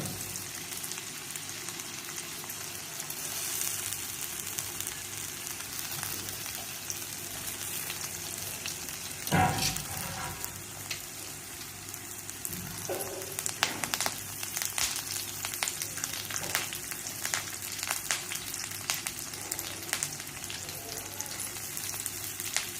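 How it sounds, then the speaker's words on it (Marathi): Potatoes frying in hot oil until golden, a steady close crackling sizzle with one sharp clatter and a later scrape from stirring, no speech. "बटाटा 1-2 मिनटं गोल्डन कलर येईपर्यंत भाजून घ्यायचं"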